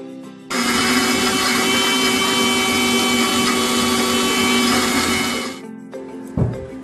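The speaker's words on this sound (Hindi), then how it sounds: "हम डाल देंगे हल्का सा पानी और इसको मिक्सर में ग्राइंड कर लेते हैं।" Mixer grinder blending coriander and garlic green chutney with a little water: a loud, steady whirring grind running about five seconds, then stopping, followed by a brief knock.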